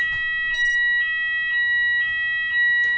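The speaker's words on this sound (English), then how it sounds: "we have the fire alarm every Thursday" A building fire alarm sounds during a weekly Thursday test, a loud, steady electronic tone pulsing in regular beats about every half second, close and continuous.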